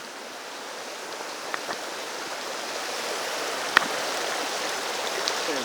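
Steady rushing of a river crossed on a winter walk at North Lees in the Peak District, a broad continuous wash of water with a few small splashes and one sharp click near the middle.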